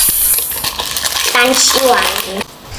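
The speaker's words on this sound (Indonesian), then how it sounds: "Bumbu kaldu diseduh di gelas, jangan lupa diaduk sebelum dituangkan." A metal spoon clinks and scrapes against a glass while stirring broth seasoning, a few sharp ringing taps and a brief swirl of rattling, close and clear with no talking.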